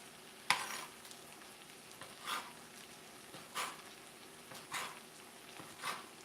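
Chicken fries in a pan with vegetables for fajitas, with a soft low sizzle under a few louder scrapes and stirs at irregular intervals and no talking.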